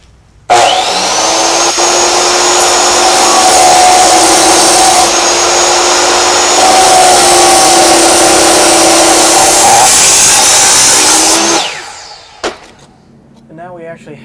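A power saw slices a brick paver in half for a garden path, a loud steady high-pitched grinding whine held for about eleven seconds before spinning down and stopping, followed by a brief clatter.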